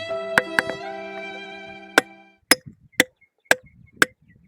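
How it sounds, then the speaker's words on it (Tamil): Stone being broken and drilled for holes outdoors, sharp ringing metallic strikes, first several overlapping clangs with long resonant ringing, then five evenly spaced, loud single hits about half a second to a second apart. "கல் உடைக்கிற சத்தம் கூட ஒரு இசையாக தான் கேட்கும்."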